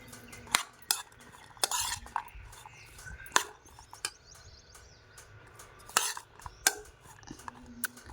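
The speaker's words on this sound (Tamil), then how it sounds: "உப்பும் மிளகாப்பொடியும் சேர்ந்த மிக்ஸ் வந்து நம்ம இதுக்குள்ளே கலக்க போகிறோம்" A spoon stirs a salt and chili powder mix into food in a bowl, giving irregular sharp metallic clinks and scrapes spread across several seconds, close and fairly quiet.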